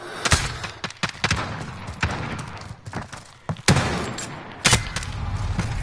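Rapid bursts of video game rifle fire with sharp cracks and thuds, several shots spaced irregularly over a dense, noisy background.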